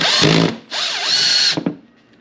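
A cordless drill spins up twice in loud, close bursts, the second ending in a few sputtering stops before quiet, while removing the air intake on a sixth-generation Chevrolet Camaro.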